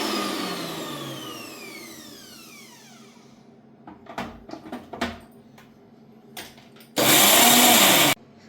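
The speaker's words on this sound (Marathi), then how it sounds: "ही मिरची अद्रक लसूण जिरं आणि हळद मीठ हे एकत्र मी दळलेलं होतं" A kitchen mixer grinds green chilli, ginger, garlic, cumin, turmeric and salt, bursting into a loud, steady whirring roar for about a second near the end, after a winding-down whine and a few clinks.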